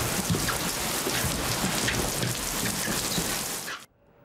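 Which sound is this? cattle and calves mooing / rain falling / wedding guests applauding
rain falling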